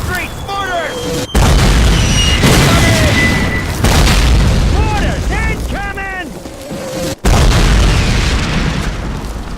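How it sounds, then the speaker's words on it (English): Mortar shells exploding in the World War II shooter Call of Duty, loud booms recurring across a noisy battle scene with shouted voices over the din. "Mortars! Incoming!"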